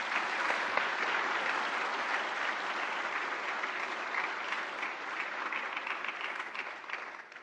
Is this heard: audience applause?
yes